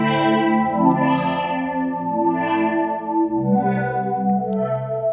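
Synth played through a Hologram Chroma Console pedal set to bypass: sustained, harmonically rich chords and notes, clean and steady, close and fairly loud, with no talking.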